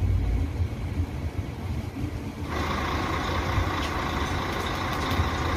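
A truck engine rumbles aboard a ferry boat on the river at Itacoatiara, Brazil, as vehicles wait to drive off. The low, steady idling sits close by, and a brighter hiss or hum joins midway and continues.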